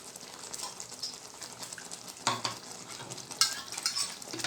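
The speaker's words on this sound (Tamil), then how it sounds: "பாருங்க எப்படி கொதிக்குதுன்னு." A pan of mushroom gravy bubbles and sizzles steadily, with occasional scrapes and clinks of a utensil stirring, close and moderately loud, no voices.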